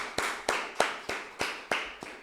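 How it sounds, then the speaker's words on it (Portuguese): Sharp, reverberant claps ring out in a church at a steady, measured pace. There are about seven distinct hits, each decaying into the room before the next one. "Palmas para Jesus"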